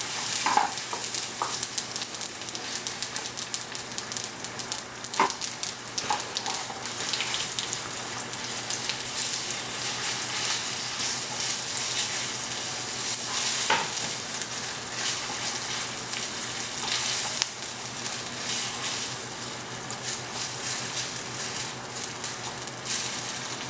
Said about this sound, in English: we're going to make sure that we cook this tomato paste until the water or the oil separates from it